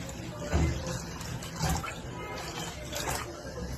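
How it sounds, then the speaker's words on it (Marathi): A mugful of water is poured into a kadhai in a home kitchen while steaming coriander vadi, a brief close splash and trickle with a few louder surges and faint voices in the background. "आपण कढई घेतली, त्याच्यात एक तांब्या पाणी घालूया"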